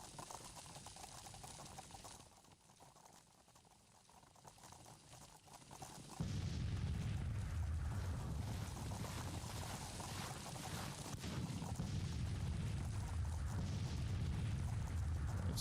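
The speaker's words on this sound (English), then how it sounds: "The first shots have been fired." Booming musket and artillery fire from a Civil War battle at Manassas rolls in a dense, continuous roar, quieter at first and then swelling loudly after a few seconds, with no voices.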